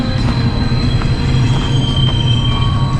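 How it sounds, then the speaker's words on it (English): Loud, steady rumble of a train crossing a large railway bridge overhead at night, with squealing wheels and metallic clatter running continuously and close. "Trains make so much noise going over it at night, just up there."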